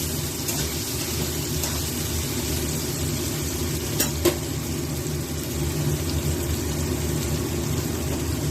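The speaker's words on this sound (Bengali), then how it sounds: "পেঁয়াজ দিয়ে দিলাম, পেঁয়াজটা একটু ভাজা ভাজা হবে" Onions frying together with potatoes in a pan for a Kabuli chana curry, a steady low sizzle running throughout with a couple of faint clicks, no voices.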